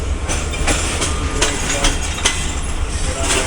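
A train shunting backwards along railway tracks, a steady rumble with repeated clickety-clack wheel beats passing over rail joints, close and loud throughout.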